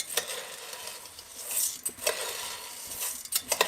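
Shell pasta toasting in a pan gives a soft dry rustle and sizzle, with repeated scraping and clinking strokes as it is stirred, and no talk over it.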